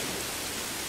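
Steady, dense video game rain hiss in a Star Wars Jedi: Fallen Order rain room, even and unbroken, like a heavy downpour falling all around.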